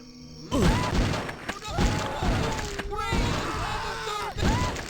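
Two heavy shotgun blasts ring out in the video game Blood amid dense in-game noise and clatter, each a loud, sharp burst near the listener.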